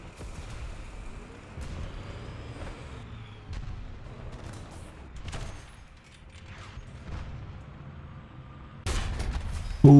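A tank cannon firing in a tank combat game featuring the M1A2 Abrams, with muffled booms and distant gunfire over low engine rumble and a loud blast at the very end.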